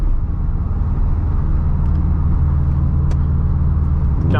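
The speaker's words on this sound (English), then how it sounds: "I hope you guys can hear the rumble from the straight pipe." A 2011 Subaru WRX hatchback with a straight pipe exhaust rumbles deeply and continuously while driving on twisty back roads, a steady low engine drone heard from inside the car with faint road noise.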